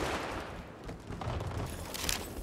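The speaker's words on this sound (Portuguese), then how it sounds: "Estava aqui alguém a dar-me tiros de trás." Gunfire rattles through a video game, dense bursts of shots over loud, continuous noise that swells toward the end, with no talk.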